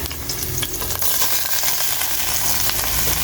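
Pork for kare-kare sizzles in a hot pan, a steady crackling hiss with light stirring scrapes throughout, close and continuous with no talk.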